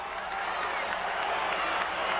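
A wrestling arena crowd at the Philadelphia Spectrum roars and claps steadily as Pedro Morales makes his entrance, a loud continuous wash of noise, with a commentator talking over it.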